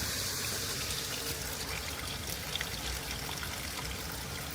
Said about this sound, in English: This is probably one of the more sizable waterfalls in Central Park.